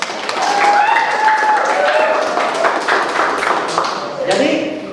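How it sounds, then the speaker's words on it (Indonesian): A classroom of students applauds a presenting group, clapping that is loud and close, mixed with chatter and voices talking throughout. "Tepuk tangan untuk kelompok satu"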